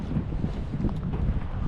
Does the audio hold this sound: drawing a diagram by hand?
no